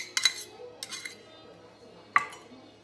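A utensil clinks against a bowl in a few quick, close taps while ranch dressing and a buffalo chicken filling are stirred together, with quiet pauses between strikes.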